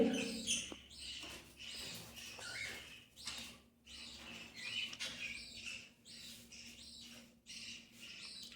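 Two small caged birds chirp and twitter in rapid, repeated bursts close by, with short pauses between clusters of high calls and a faint steady hum underneath.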